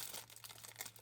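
Thin plastic film on a power bank part crinkles and rustles briefly up close, a soft continuous crackling with no voices.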